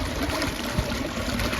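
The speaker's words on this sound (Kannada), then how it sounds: "ಸ್ಟಾರ್ಟಿಂಗ್ ಹಿಂಗೆ ನೀರು ಹೋಗಿತೈತ್ರಿ" Irrigation water running through a farm field, a continuous soft trickling and streaming flow heard close and steady with no talk.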